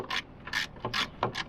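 A ratchet wrench loosens 10mm bolts holding the hood handle lights on a Ford Bronco Raptor, giving several short bursts of rapid clicking separated by brief pauses, close and clear with no talk.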